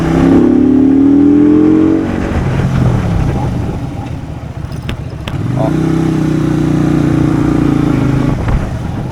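Benda Greystone BD250 motorcycle with belt drive, its engine rising in pitch through a rev, dropping off, then climbing again more slowly after a brief lull with some clatter, close and loud.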